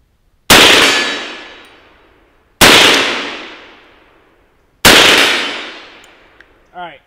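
Three loud rifle shots fired with 80-year-old ammunition at a steel plate, evenly spaced about two seconds apart, each a sharp crack with a ringing metallic clang that decays slowly, followed by a brief voice at the end.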